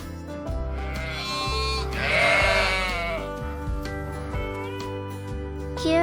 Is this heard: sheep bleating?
yes